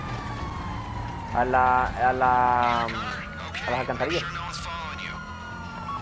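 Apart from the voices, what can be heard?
police car siren in the video game GTA 5 Online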